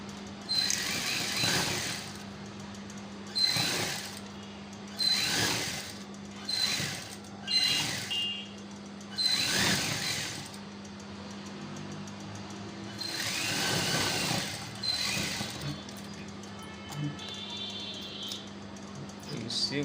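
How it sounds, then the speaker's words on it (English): A sewing machine stitches the lining of a native cap in short mechanical bursts of about a second each. The bursts come at irregular intervals over a constant low hum, with brief pauses between runs. "So simply we'll stitch the lining."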